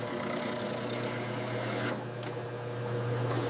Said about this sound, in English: Replacing corroded rivets in the canopy frame with pneumatic gun.